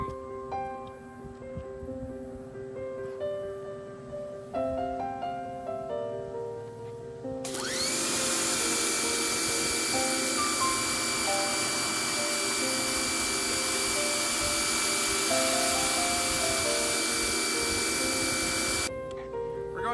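An electric pressure washer fitted with the green 25-degree nozzle bursts into a loud, steady hiss and roar that holds for about eleven seconds before cutting off, following a stretch of quieter background music.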